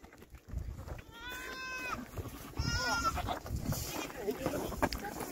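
Billy goats on a farm are grabbed and separated from the nanny goats, bleating in wavering cries amid scuffling and handling noise while people talk and call out nearby.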